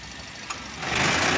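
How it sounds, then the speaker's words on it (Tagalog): A 2020 Toyota Vios engine running with a loud vibration, a low droning hum with a brief click, then the rumble grows rougher and louder toward the end, heard close with no talking. "Alam mo parang mawawasak yung makina."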